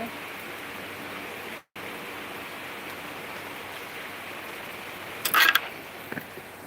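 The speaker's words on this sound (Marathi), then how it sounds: "कोकणात पाऊस सुरू झालेला आहे बघा" Monsoon rain falling in the Konkan region, a steady even patter and hiss throughout, broken by a brief dropout and a short burst of sharper noise near the end.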